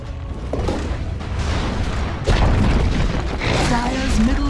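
A tower crumbling apart in the Dota 2 battle arena, heard as a loud, rumbling boom of collapse that swells midway, with a faint voice chiming in near the end over continuous game noise.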